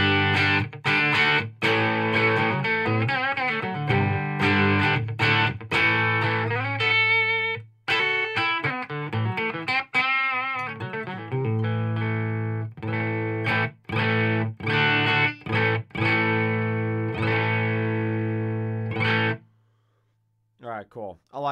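A heavily distorted metal electric guitar plays through a Marshall Code 50 amp, with loud chugging palm-muted riffs and ringing chords that run continuously before stopping near the end, followed by a few faint plucks.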